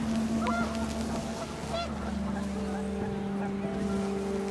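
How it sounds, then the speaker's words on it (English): Panicked geese honk in What Remains of Edith Finch as wind rises, a few short cries over a steady low drone and rushing ambience, with a boat-like engine hum running throughout. "panicked geese appeared and quickly went."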